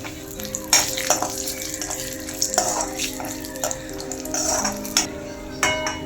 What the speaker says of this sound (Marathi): फ्राय झाल्यानंतर काजू फ्राय करून घ्यावे.